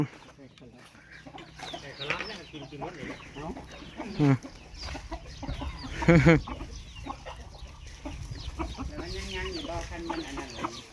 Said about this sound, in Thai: ส่วนอันนี้ก็สิเป็นไก่คาลัม